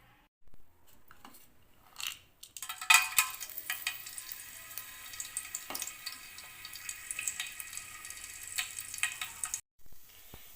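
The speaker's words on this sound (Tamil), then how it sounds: "பட்டை லவங்கம் நல்லா பொரிஞ்சு வந்துடுச்சு." Cinnamon and cloves sizzle and crackle steadily in hot ghee and oil for chicken biryani, a close, continuous frying hiss after a few short opening taps, with scattered pops and no talking.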